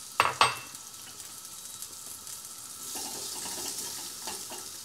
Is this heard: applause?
no